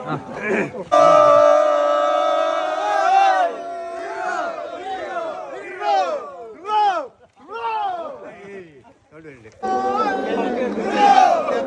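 At a temple festival flag hoisting, a crowd lets out loud rising cheers and rhythmic shouted calls in bursts, with scattered voices and chatter between the swells.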